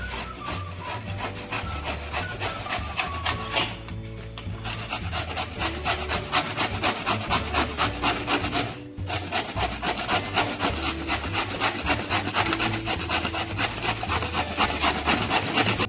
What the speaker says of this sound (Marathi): कट केलेला भोपळा आता आपण किसून घेऊया.